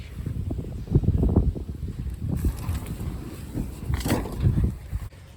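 Strong wind buffets the microphone outdoors in uneven roaring gusts, rising and falling loudly over about five seconds with no voices.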